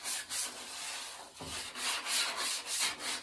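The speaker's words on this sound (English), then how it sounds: "this radiator is going to need a little rub down with some fine sandpaper" Fine sandpaper is rubbed over a car radiator in close, steady back-and-forth strokes, a continuous raspy scratching with a brief pause partway through.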